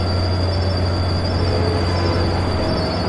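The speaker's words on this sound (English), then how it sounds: "That's the P5 horn." Via Rail train sounding its P5 horn: a loud, steady, sustained blast heard up close over continuous train rumble.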